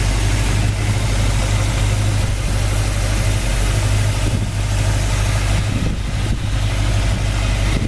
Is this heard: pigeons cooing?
no